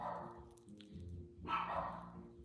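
Dogs bark at home as a delivery arrives at the front porch, two loud barking bursts, one at the start and another about halfway through, with a lower rumble underneath.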